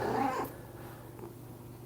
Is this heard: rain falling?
no